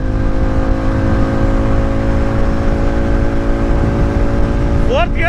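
Harley-Davidson X440 motorcycle engine pulling hard through the gears, a loud, close, sustained buzzing drone with steady tones, ending in a quick rising pitch sweep.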